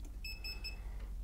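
A Vici VC8145 bench multimeter sounds a high electronic beep three times in quick succession, clear and steady against a low background hum.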